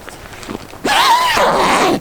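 A zipper on a tent's side window runs down in one long continuous rasping pull lasting about a second, loud and close, after a few faint rustles.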